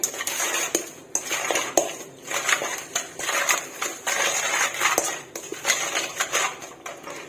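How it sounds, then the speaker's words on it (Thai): Khajorn flowers and fresh shrimp are tossed together in a bowl, with a steady run of utensil clinks and scrapes against the dish, close and fairly busy for the whole stretch. "หลังจากนั้นค่ะคลุกเขาให้เข้ากัน"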